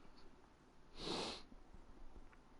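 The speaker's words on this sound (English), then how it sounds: "Sorry about the sniffing there." One short, quiet sniff from a person rises out of a soft, hissy background about a second in, then the room falls back to near silence.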